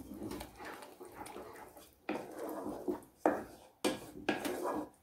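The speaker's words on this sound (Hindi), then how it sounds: "कंटिन्यू हमें ऐसे चलाते हुए बहुत कम गैस पे इसको पकाना है।" A spoon scraping and stirring a thick milk-powder khoya mixture in a kadhai over low heat, with soft repeated scrapes and knocks against the metal pan, fairly quiet and irregular.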